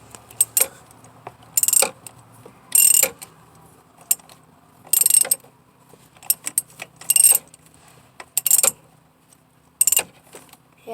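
Purge valve on a car being twisted and snugged tight by hand, giving repeated short bursts of clicking, ratcheting rasps at a steady pace with quiet gaps between, close and fairly loud, no talking.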